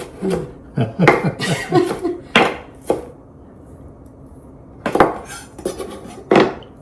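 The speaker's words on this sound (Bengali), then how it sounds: "কিভাবে দেখেন ছুরি চলছে" A knife chops onions in quick bursts of sharp cutting taps on a board, close and fairly loud, separated by quiet pauses.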